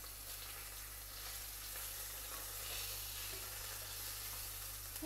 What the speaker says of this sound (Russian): И продолжаем потихонечку